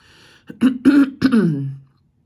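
A person clears their throat in three quick, rough bursts that trail into a low, drawn-out grunt, close and alone.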